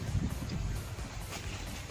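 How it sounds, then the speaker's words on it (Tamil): Strong wind blowing through a park with large trees, heard as a steady low rumble of gusts buffeting the microphone, continuous and fairly loud across the short stretch. "இங்க ரொம்ப காற்றடிக்குது"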